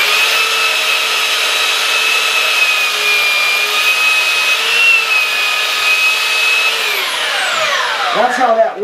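A sander's belt runs with a steady whine while a belt cleaner is pressed against it, giving a rough scraping rasp. Near the end the motor winds down, its pitch falling away.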